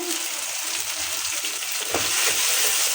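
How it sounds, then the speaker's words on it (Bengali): Ginger-garlic paste, chilli and turmeric sizzling as they sauté in a pan, a steady hissing fry that grows a little louder partway through, close and continuous with no voice. "মশলাটা আমি ভালো করে কষিয়ে নেব বন্ধুরা"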